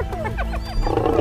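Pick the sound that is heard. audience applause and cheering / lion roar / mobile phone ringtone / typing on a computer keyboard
lion roar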